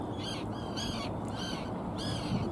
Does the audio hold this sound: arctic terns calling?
yes